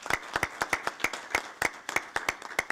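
Small workshop audience clapping for the organizers at a maritime safety workshop, a short burst of scattered, uneven hand claps from a modest group in a room, fairly close, with no talking.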